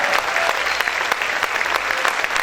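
Loud, dense clapping from a church congregation praising God during a Spanish-language worship service, a steady close-up wash of many hands with no voices standing out.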